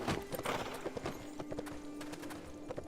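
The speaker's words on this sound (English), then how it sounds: "So, I have a horse." Horse hooves clip-clopping in the video game Sacred 2, a steady rhythmic series of close, crisp hoof strikes with a faint neigh-like tone underneath, no talk.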